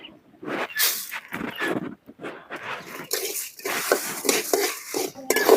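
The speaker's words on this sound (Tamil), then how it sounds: "நல்லா கருவாக வறுத்துக்கணும் நல்லா பொன்னேரமாக நேரமாக வறுத்துக்கணும்" Red chillies and coriander seeds dry roasting in a pan for a village-style goat curry masala, with repeated scraping, stirring and metal-on-metal clatter in an irregular rhythm, close and moderately loud.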